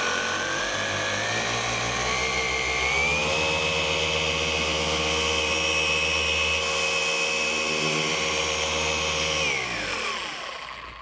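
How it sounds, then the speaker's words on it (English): A rotary polisher buffs car paint with Pinnacle Advanced Compound, giving a loud, close, continuous motor whine that climbs in pitch as the speed comes up, holds steady, then winds down near the end. "I'm just going to buff out a section here so you can see the difference between before and after"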